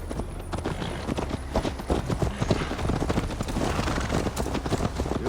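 Horse hooves clip-clop steadily and loudly in Assassin's Creed Valhalla, a continuous rhythmic gallop of a Viking-age mount with a dense, busy game soundscape around it.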